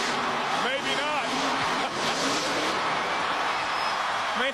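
Monster truck engine roaring at full throttle during a Monster Jam freestyle run in an Atlanta stadium, a loud continuous growl mixed with a cheering crowd and an announcer talking over it.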